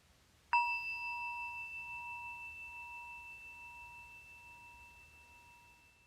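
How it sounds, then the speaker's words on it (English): A meditation bell struck once, giving a clear bright ring that hangs as a pure steady tone and fades slowly into quiet. "Listening to the sound of the bell as it fades off."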